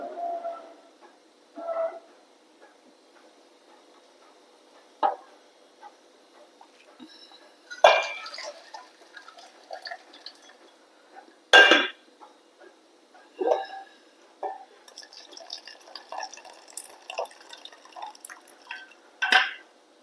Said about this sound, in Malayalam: നമുക്കിതിലെ വെള്ളം ഊറ്റിക്കളയാം.